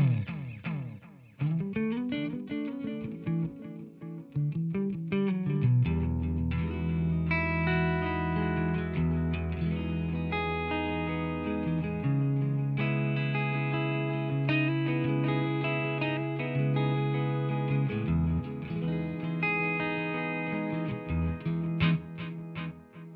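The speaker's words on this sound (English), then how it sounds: "because it's a space echo, you've got reverb" Arturia space echo tape delay plugin playing a preset with reverb: sustained synth-like tones and chords smeared by repeating echoes and a long reverberant tail, loud and continuous throughout with no talking.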